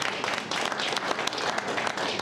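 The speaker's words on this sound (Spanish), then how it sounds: "Así que un aplauso para don" Applause from the audience at a commemorative talk marking an anniversary, dense steady clapping from many hands that fills the whole stretch without talking over it.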